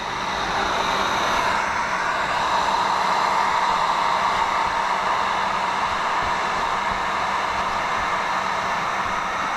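Heat gun warming window tint film on a Corvette door, a continuous loud hissing blow of hot air that holds steady and unbroken throughout, with no voices.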